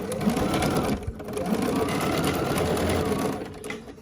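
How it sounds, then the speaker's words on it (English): Sewing machine stitching a quilt block seam, a continuous close whirring hum with a brief pause near the middle before it resumes, then easing off at the end, no talking. "I'm going to sew from this side, because when I ironed out here, I can see where my seam is right there."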